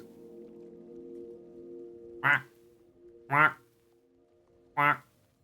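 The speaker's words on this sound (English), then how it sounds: "Ducks." Ducks in the game OFF give three distinct nasal quacks about a second apart, loud and close over a soft steady electronic tone, with no talking.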